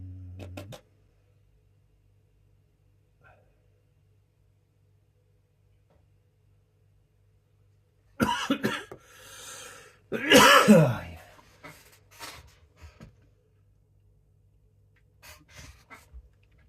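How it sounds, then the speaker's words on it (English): A person coughs and clears their throat in a couple of rough bursts, close and fairly loud, separated by long quiet stretches with a low hum and a few faint breaths. "I don't know why I'm coughing so much"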